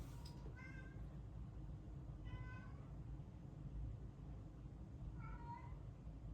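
A house cat meows three times, short rising calls spaced a couple of seconds apart, wanting to be let outside, heard at moderate distance over a low steady background hum.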